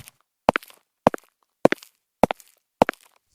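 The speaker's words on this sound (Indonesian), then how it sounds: "Suara langkah kaki terdengar dari belakang." Five slow, evenly spaced footsteps, crisp and close, each heel strike followed by a softer scuff, with silence between steps, used as a sound effect in a spoken mystery story about a missing ambulance driver.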